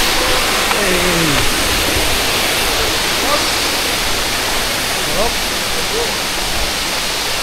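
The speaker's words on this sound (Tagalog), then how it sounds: "Dito na tayo sa may Danarak Falls." Daranak Falls, a waterfall, roars as a steady, loud, broadband wash of rushing water throughout, with faint voices barely audible underneath.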